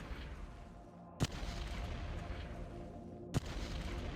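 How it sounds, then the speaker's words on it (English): Ranged gun attack in the strategy war game Shadow Empire, two heavy distant booming shots about two seconds apart over a steady low rumble of battle ambience. "Go ahead and do another range attack with these guns."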